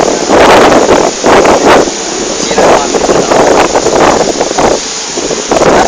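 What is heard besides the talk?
strong wind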